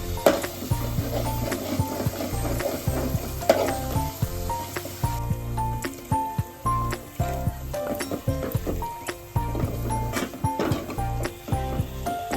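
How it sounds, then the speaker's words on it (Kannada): Coconut milk heating in a covered pan to render homemade coconut oil, with steady bubbling sizzle punctuated by irregular sharp pops and spits, fairly close, plus occasional clinks of a plate or lid and background music. "ಕಾಯಿಸ್ತಾ ನೋಡ್ರಿ ಎಣ್ಣೆ ಹೆಂಗ್ ಬಿಡ್ತಾ ಇದೆ."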